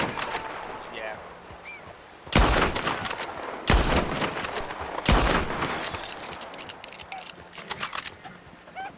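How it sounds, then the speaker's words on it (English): Gunfire in a Wild West roleplay video game set in Ozark County, with several loud bursts of rapid shots and single cracks, up close over a low background. "nice and executed as soon as he started shooting at you"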